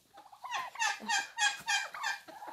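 Turkeys gobble in quick, rattling bursts, several calls in a row, close by and fairly loud.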